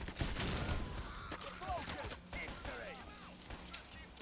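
Co-op bank heist gunfire in Payday: The Heist, heavy bursts of rapid shots and scattered single bangs, loud and close, with voices talking over the firefight.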